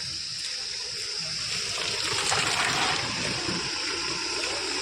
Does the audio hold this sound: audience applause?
no